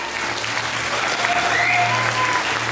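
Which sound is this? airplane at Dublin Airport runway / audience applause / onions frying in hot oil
audience applause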